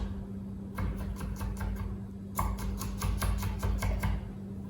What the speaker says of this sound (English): don't mess about too much, just chop it fairly coarse